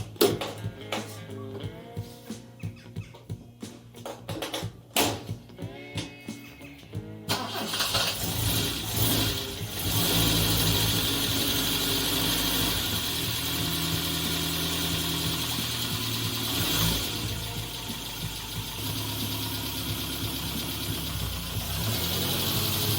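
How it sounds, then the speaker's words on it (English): A BMW E21 racecar engine cranks with a few sharp starter bursts and catches, then settles into a loud, steady idle that fills the rest of the stretch, close by, with no voices. "start the engine up, get it up to temperature, check everything is okay"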